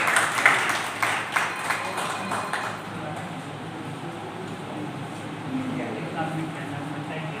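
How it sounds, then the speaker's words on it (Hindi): At a Hindi poetry recitation gathering, the audience's clapping rattles through the first few seconds and then dies away as a voice takes over. "एक बार दादा के लिए जोरदार तालियां"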